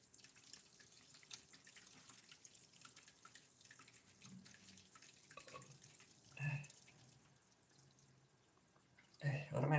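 Hot water running from a kitchen tap, a steady low hiss under continuous chatter, with a louder splash or clatter near the end.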